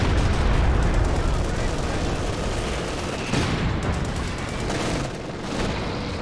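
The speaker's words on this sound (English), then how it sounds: "Stuka rocket strike coming down as well." Dense wartime battle sounds from the Company of Heroes 2 strategy game, a Stuka rocket strike with continuous booming impacts and gunfire, loud and sustained throughout, with commentary talk mixed underneath.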